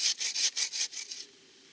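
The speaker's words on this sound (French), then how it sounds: "la scie à bûche, c'est vraiment un outil pour couper du bois pour le feu de camp" A bow saw cuts through firewood in quick back-and-forth strokes, about seven rasping pulls in a steady rhythm that fade and stop partway through, close and fairly loud.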